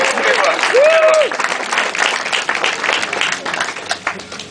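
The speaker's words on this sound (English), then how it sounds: "I think he deserves a round of applause for sending me home." Wedding guests applaud during a best man speech, a loud burst of clapping that fades over several seconds, with a brief cheer or whistle and voices mixed in.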